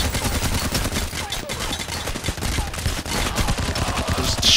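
Sustained gunfire during a bank heist firefight in the video game Payday: The Heist, with rapid automatic bursts and overlapping shots rattling nonstop at close range under a busy game mix.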